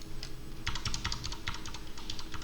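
Home and End keys pressed repeatedly on a computer keyboard, a close, quiet series of about a dozen crisp plastic clicks in an uneven rhythm, heard alone in a still room.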